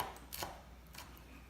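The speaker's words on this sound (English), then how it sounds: "I just chop off the ends here and then just cut them up into little bits" A knife chops chili peppers on a cutting board, giving a few quick, separate cuts at close range with quiet room noise between them.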